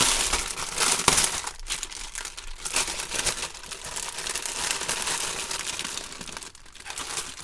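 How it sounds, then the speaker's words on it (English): Crinkly plastic packaging rustles and crackles close by as a craft swap item is pulled from its bag, in continuous, uneven bursts of crumpling. "I'm just going to take this out of the bag"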